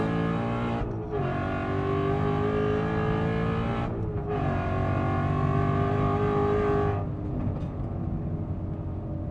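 Ford Mustang RTR Spec 5 with over 800 hp cruises a cool-down lap at the Nürburgring, its engine droning steadily with a few brief dips in tone as it shifts or eases off, no voices over it.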